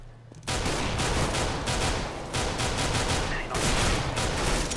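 Heavy automatic gunfire in the video game Counter-Strike: Global Offensive during a deathmatch, a dense, continuous fusillade of loud, close shots after a brief quiet start, with a pause in the sound around the middle.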